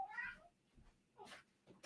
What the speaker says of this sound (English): Hank, cat's jumping at the door trying to take down the door.